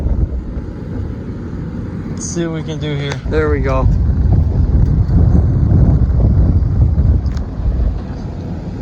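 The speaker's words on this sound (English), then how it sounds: "It's windy." Strong wind buffets the microphone at a beach campsite beside a home-built truck camper, a constant loud low roar throughout, with someone talking briefly over it.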